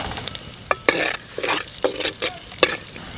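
Garlic and vadagam fry in a few spoons of hot oil, with a soft, constant sizzle. Several quick scraping stirs from a spoon against the pan come up close in short bursts.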